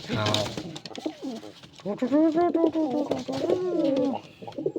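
Pigeons in a pigeon loft coo close by in soft, throaty, repeated calls that overlap and rise and fall over a few seconds.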